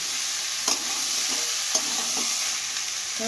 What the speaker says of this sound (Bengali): চানাটা দেওয়ার পরে একটু আবার ভালো করে আবার একটু কষিয়ে নিয়ে